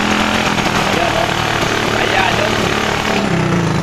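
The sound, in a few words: 110 motorcycle engine misfiring and weakening, faulty carburetor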